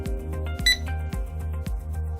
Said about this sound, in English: the device will automatically capture an image alongside a beep sound